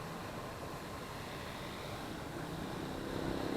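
Small JXD-510W quadcopter drone with its motors spinning up, giving a steady broadband whirring hiss that holds level throughout and swells slightly near the end, with no talk.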